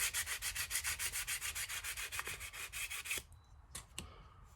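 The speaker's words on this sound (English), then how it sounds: "just gonna sand it real lightly with the grain" Light back-and-forth strokes of sandpaper on wood, following the grain in a steady rhythmic rasp, close and quiet, ending with a few soft taps.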